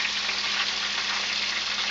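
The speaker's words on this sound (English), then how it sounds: "I just wanted you to see how the chops are frying" Pork chops fry in a pan with a steady, dense sizzle that holds even and loud throughout, with no talking.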